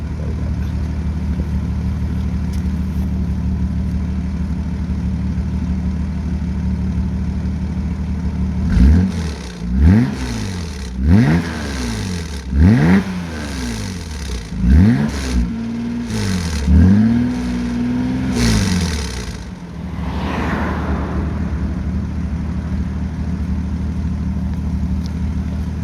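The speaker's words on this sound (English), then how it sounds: "I know you all like the sound of this car, so I'll give you a quick rev." A Ford Granada 2.8 engine idles with a low steady rumble, then is blipped through six or seven quick revs, each rising and falling sharply, before settling back to a smooth idle.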